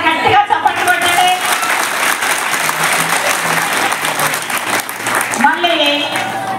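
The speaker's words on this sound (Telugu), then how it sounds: "ఒకసారి గట్టిగా చప్పట్లు కొట్టండి" Schoolgirls at a girls' high school clapping loudly together, a dense sustained burst of applause, with a voice talking briefly at the start and again near the end.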